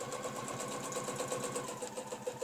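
Close, even whirring of a sewing machine stitching fabric along a quilting ruler, a rapid rhythmic mechanical hum with a faint pulsing beat running throughout.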